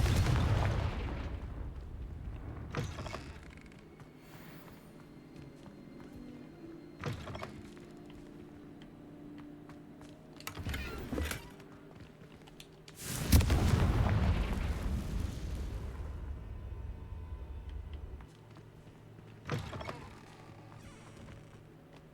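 Confringo fire spells burst in Hogwarts Legacy as a series of separate deep booming explosions, about six spaced a few seconds apart, with the strongest and longest blast near the middle and quiet, low rumbling between them.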